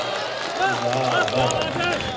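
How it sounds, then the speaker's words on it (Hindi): Thin, scattered clapping from an audience at a mushaira (Urdu poetry gathering), steady and modest in volume, with a voice speaking over it throughout. "तालियां आपकी कमजोर हैं।"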